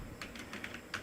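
Programming code being typed on a computer keyboard, with a quick run of close, crisp key clicks and a few sharper strokes over about a second, no talking.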